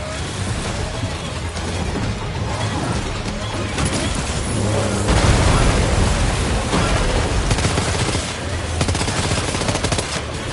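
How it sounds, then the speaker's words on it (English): Sustained dense gunfire in Death Stranding 2, rapid automatic bursts and heavier blasts running continuously and loudly throughout, with voices mixed underneath. "Opening fire now."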